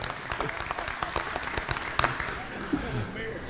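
Scattered applause at a Maryland State Firemen's Association executive committee meeting, a moderate burst of claps from a small room that continues steadily for a few seconds with some voices mixed in.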